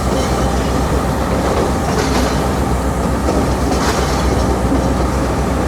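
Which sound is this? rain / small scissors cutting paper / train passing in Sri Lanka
train passing in Sri Lanka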